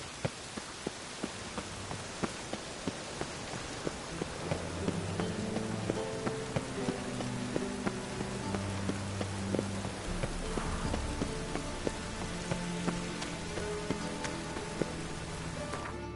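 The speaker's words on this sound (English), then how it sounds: "And it's raining again." Steady rain from a PS4 video game patters continuously on surfaces for the whole stretch, under a low droning game soundtrack with faint repeated clicks and no talking.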